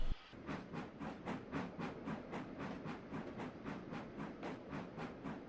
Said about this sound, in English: Ah, the connecting goods train.